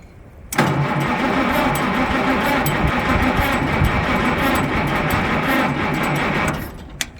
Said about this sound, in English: No, we're not cranking fast enough, I don't think.